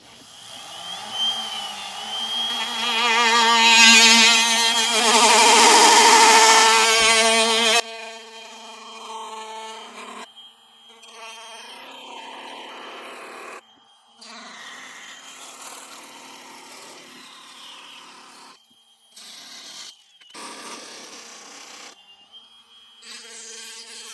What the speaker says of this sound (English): It's foot controlled and variable speed, so I can control it at any rate that I need to with this flexible shaft.